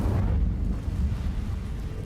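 Incendio fire spell cast in Hogwarts Legacy, a rumbling whoosh of flame with a low, roaring burst that holds steady for about two seconds, loud and close, no talking.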